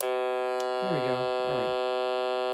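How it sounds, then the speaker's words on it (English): A weather radio's alarm gives a steady, loud electronic buzzing tone, rich in harmonics, that holds for the whole stretch while someone speaks briefly over it. "So that's what the alarm sounds like."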